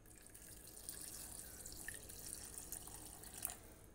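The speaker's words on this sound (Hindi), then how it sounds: "अब डाल लेंगे ठंडा पानी" Cold water is poured into a mixer jar while homemade ghee is being made from malai. The stream hisses and splashes steadily and faintly at close range, with no talking.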